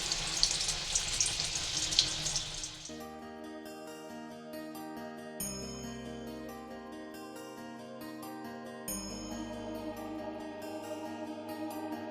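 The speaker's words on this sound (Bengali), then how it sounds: "আর এখানে যে পটল ভাজা বসিয়ে দিয়েছি দুপুরের জন্য" Pointed gourd (potol) slices frying in a pan give a loud, close hissing sizzle for about three seconds, after which music takes over and the frying is no longer evident.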